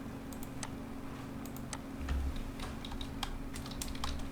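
Someone types a chat prompt on a keyboard, with a quiet, continuous patter of light clicks at an irregular rhythm over a low background hum.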